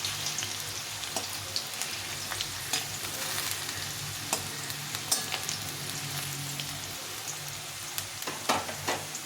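Large chandramukhi potatoes fry until browned, a continuous close sizzle broken by frequent scraping stirs and clicks of a utensil against the pan, with no talking.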